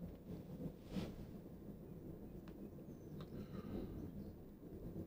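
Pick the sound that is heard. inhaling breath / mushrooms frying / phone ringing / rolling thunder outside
rolling thunder outside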